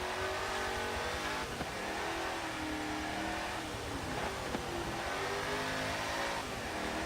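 A race car engine in Forza Motorsport 7 roars at high revs and accelerates continuously, loud and close, with the pitch rising and dipping through the gears.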